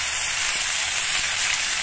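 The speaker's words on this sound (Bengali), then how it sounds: "ফোড়নটা একটু ভাজা হয়ে যাওয়ার পর এর মধ্যে হাফ চামচ দিয়ে দিচ্ছি আদা বাটা" Ginger paste hits hot oil already frying bay leaf, dried red chillies and whole cumin, giving a loud, continuous close-up sizzle with a bright hiss throughout and no voices.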